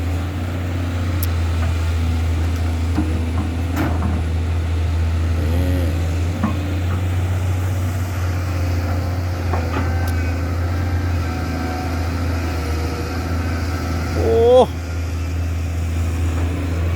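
A SANY SY205C excavator idles with a steady low diesel drone throughout, a continuous close rumble with a few brief engine rises, while someone talks over it.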